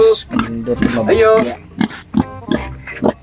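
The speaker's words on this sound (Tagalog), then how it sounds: "Dako na gid kay mong baboy, pwede na gid kay mabaligya." A pig oinks and grunts repeatedly at close range, loud and irregular, with short snorting bursts and a longer squealing grunt near the start.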